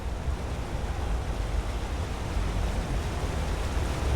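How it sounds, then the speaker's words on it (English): Waterfall and wind at Dead Drop Falls in Skyrim make a steady, full roar of rushing water and gusting air, continuous and fairly loud with no voices. "It's literally a waterfall. Very windy area."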